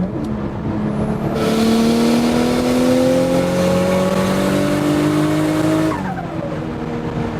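A turbocharged Lexus SC300 roars at full throttle, its loud, rising exhaust note sustained for several seconds before lifting off and dropping away.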